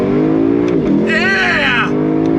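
A 2022 Lexus LC 500 convertible in Sport Plus mode with traction control off, its engine revving hard and loud up through a rising, sweeping pitch over about a second, with a steady engine drone underneath.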